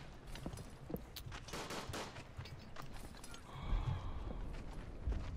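Enfield Mark III rifle gunfire in the trench warfare video game Verdun, sharp cracking shots amid distant battlefield fire, a few clustered reports over a busy, low-level background, no talk.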